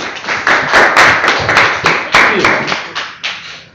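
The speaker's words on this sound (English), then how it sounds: "Let's give him a round of applause." Members of a Toastmasters club meeting clap for a speaker, a smallish group producing loud, close, fairly distinct claps in an uneven rhythm that tapers off toward the end.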